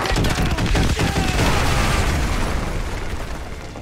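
Artillery strike in the Call of Duty Modern Warfare 2 video game, a loud close blast followed by several rapid booms and crackling bursts that roll on and slowly fade.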